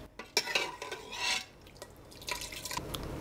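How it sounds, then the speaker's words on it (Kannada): Cooked tomatoes and lentils are mashed in a pot for rasam, with soft wet squelches, scrapes and light clinks of a utensil against the pot, quiet and close, in short irregular bursts. "ಟೊಮೊಟೊನ ಸ್ವಲ್ಪ ಸ್ಮ್ಯಾಶ್ ಮಾಡ್ಕೊಳ್ತಿದ್ದೀನಿ."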